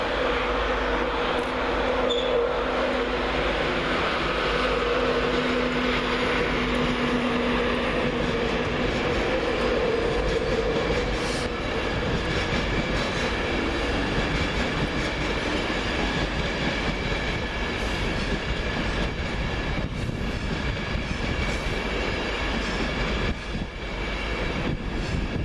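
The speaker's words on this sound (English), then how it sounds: "as 91106 arrives, working the 1451 LNER service from London King's Cross to Leeds" LNER Class 91 electric locomotive 91106 on a King's Cross to Leeds service arrives at Peterborough station, with a loud sustained rumble and rolling wheel noise, plus an early tonal hum that fades, and occasional clicks.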